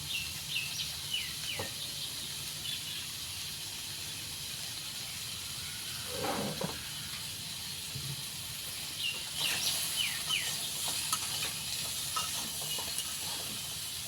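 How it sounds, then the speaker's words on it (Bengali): Pumpkin and salt are stirred together in a hot pan while cooking a Bengali prawn dish, giving a continuous hiss and sizzle with occasional spatula scrapes and faint bird chirps in the background. "কুমড়োর সঙ্গে নুনটাকে মিশিয়ে নেব।"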